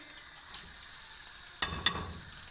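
Onions hit hot oil in a kadhai with a soft, steady sizzle, broken by two sharp clanks of a stirring utensil against the pan's rim.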